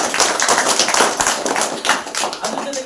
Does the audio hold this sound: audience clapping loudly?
yes